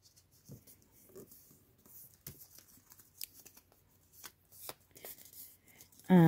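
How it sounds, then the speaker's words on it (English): Paper folded in half by hand while making an envelope writing journal: soft, scattered crinkles and sharp creasing rustles close by, quiet and intermittent, with a louder clatter at the very end. "I'm gonna fold it on half, I'm guessing, this way, actually this way,"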